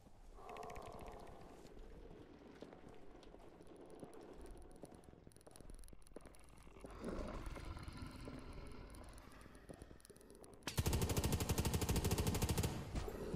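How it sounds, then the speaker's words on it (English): Sustained video game gunfire rattles through a busy mix of noise, holding steady and then surging louder and harsher near the end. "Oh, something shooting at him."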